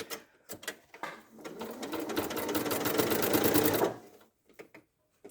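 A sewing machine runs close by in one continuous burst of rapid whirring stitching, about three seconds long, as it sews fabric around a curve. A few soft clicks come before and after.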